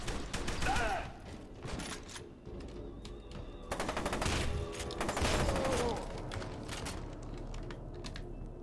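F.E.A.R. 2 gunfire rattles in repeated automatic bursts and single shots over several seconds, mid-loud, mixed with mechanical clicks and game effects, with a voice talking faintly underneath.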